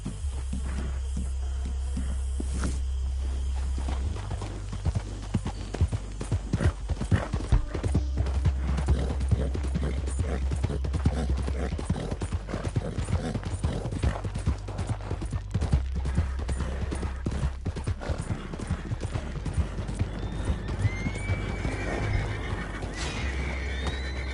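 Steady clip-clop of horse hooves from Red Dead Redemption 2, continuous and fairly close, with occasional neighs and whinnies over a low ambient hum throughout.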